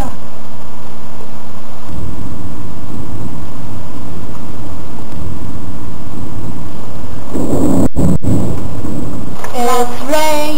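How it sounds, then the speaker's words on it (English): Rolling thunder during a rainstorm, low rumbling that swells over steady rain, with a couple of sharp cracks near the end and faint voices at the close. "thunder, thunder, thunder."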